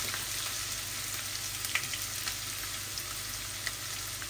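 Onions and garlic frying in hot oil, a faint, even crackling sizzle held throughout with a couple of small ticks, no talking.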